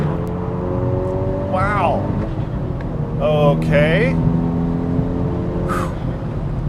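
A 450hp VW Golf R tuned by Integrated Engineering accelerates hard through gears, its turbocharged engine rising in pitch in repeated sweeping surges with shift breaks, heard from inside the cabin with someone speaking briefly.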